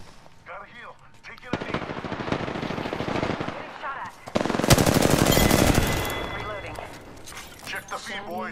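Automatic weapon fire in the battle-royale shooter Apex Legends: rapid bursts and sharp single shots, with a heavy sustained volley near the middle, as a player comes under fire while voices talk over the shooting.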